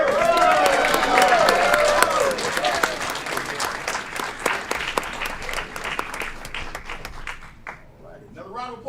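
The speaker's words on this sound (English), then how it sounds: "Another round of applause for Sarah B." Applause fills a city council chamber, many hands clapping together at first and then thinning into scattered individual claps that fade toward the end, with voices audible among the clapping.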